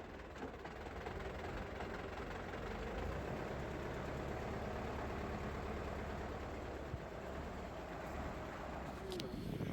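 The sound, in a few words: tractor engine running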